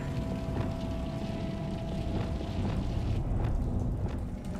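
Confringo fire spell explosion in the Hogwarts Legacy video game, a loud sustained roaring burst of low rumble and crackle that stays dense throughout, with a faint tonal hum underneath.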